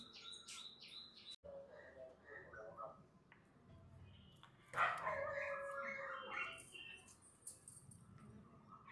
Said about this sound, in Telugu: మా ఇంట్లో బర్డ్ సౌండ్ వస్తూ ఉంటుంది, పిచ్చుకలు, కాకులు